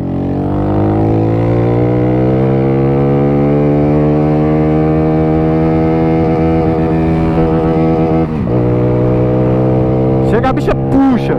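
A small Honda Pop motorcycle engine is revved hard, its pitch rising steadily for about eight seconds before sudden drops and a couple of sharp, wobbling rev blips at the end; loud and near.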